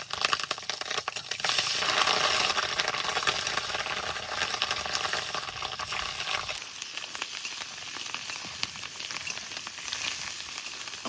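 Boiled fish roe seasoned with salt and turmeric sizzling and spitting in hot oil in a village kitchen, a steady loud crackling fry with no talking.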